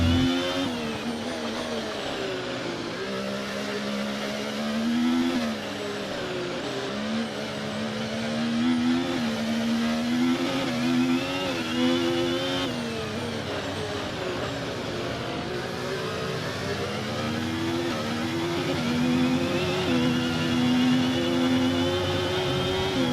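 A Formula 1 car's combustion engine in F1 24, reportedly suffering internal wear, revs loudly and continuously with rising and falling pitch through gear changes, a steady close whine that runs throughout.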